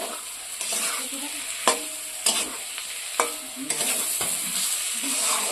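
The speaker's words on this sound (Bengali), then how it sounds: "এখন একটু কষা নেব" Spices, egg and pointed gourd sauté in a hot pan, a steady sizzle broken by several sharp scrapes and knocks of the stirring spoon at irregular intervals, close and loud, with no voices.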